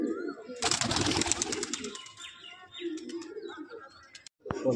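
A male pigeon coos in a loft of Madrasi pigeons, low calls repeating near the microphone, while a burst of rustling or flapping noise briefly covers them and a person talks at times.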